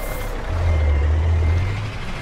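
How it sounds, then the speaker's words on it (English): Truck engine from a truck-driving video game sound mod, a low steady diesel drone that swells for about a second and a half and then eases, with reversing beeps and air brake not clearly picked out. "Kriechborn, he made the sound mod for this truck"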